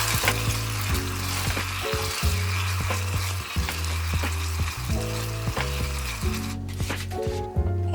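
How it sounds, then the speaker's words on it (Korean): Pork cutlet sauce and mushrooms bubble and sizzle in a pan, a steady close frying hiss with scraping stirs and clinks layered over a low hum, and no voices. "팬에 돈가스 소스 3개를 넣고 버섯을 넣고 끓여주세요."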